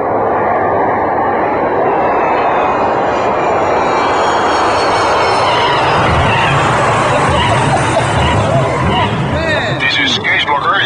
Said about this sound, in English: Cabin crew, prepare for landing.